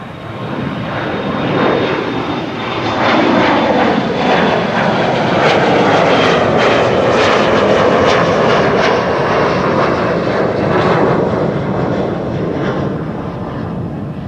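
A Boeing 777 bound for Mumbai takes off from Amsterdam Schiphol, its jet roar loud and sustained, swelling and holding steady for the whole stretch without any talk over it.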